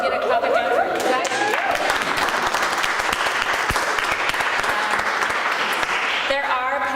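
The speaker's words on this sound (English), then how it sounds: "Can we get a clap again for you guys?" An audience at a cannabis ethics talk claps steadily and loudly for about six seconds, a dense wash of applause with chatter and a little laughter mixed in, voices returning as it fades.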